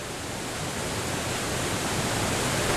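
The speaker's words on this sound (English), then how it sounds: "The Marmore Falls, one of the highest waterfalls in Europe, attracts visitors from all over the world." Marmore Falls in Italy, where the Velino stream plunges 165 meters into the Nera river, roars as a steady, dense, broadband wash of falling water, loud and unbroken throughout.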